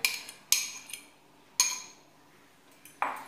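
A spoon clinks sharply against a bowl at irregular intervals while stirring lemon tart mixture for verrines, a few separate bright knocks close by with quiet gaps between.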